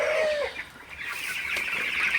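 Broiler chickens in a farm shed at night cluck and squawk nearby, several birds calling in overlapping bursts over a soft background murmur.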